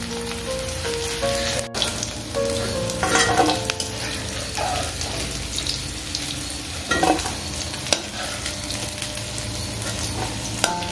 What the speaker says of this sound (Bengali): তেলটা গরম ছিল বলে না দেখো এখানে বেশি লাল হয়ে গেল, কিন্তু একটু হালকা ভাজা হোক তারপর তুলে নিচ্ছি।